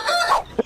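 A rooster from a village fighting-cock setting gives a short crow-like call with a brief cluck at the end, close and alone with no talk.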